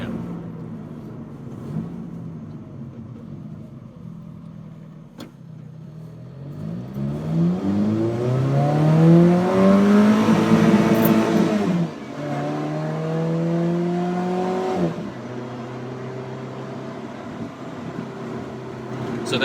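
Alfa Romeo 4C 1.7-litre turbocharged four-cylinder revving hard toward its limiter, the engine note climbing and sweeping up loudly, easing off, then holding a steadier drone from inside the car.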